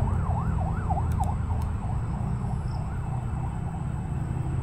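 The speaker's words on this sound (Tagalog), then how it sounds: "Pero maririnig mo mga wangwang." A distant emergency siren wails in a repeating up-and-down pattern, faint over a low rumble of traffic or wind near a forest house, with no talking.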